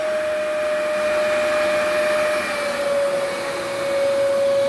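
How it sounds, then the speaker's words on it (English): A commercial vacuum cleaner in IntelliClean mode runs with a steady, loud motor whine and a sustained high tone, droning evenly without pause. "See, that hushes down the vacuum."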